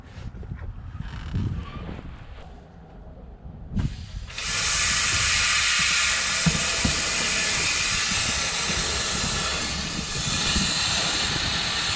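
Compressed air hisses loudly and steadily into the engine system of a bus that sat unused for two years, bursting on after a few seconds of low rumbling and holding a broad, continuous rush to the end.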